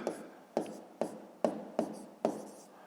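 Pen or pencil writing numbers by hand during a math exercise, six short scratchy strokes in a quick irregular rhythm, close and fairly quiet.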